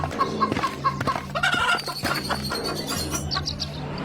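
Several chickens cluck steadily and overlap in a busy, close chatter, with brief higher chirps mixed in. No one speaks.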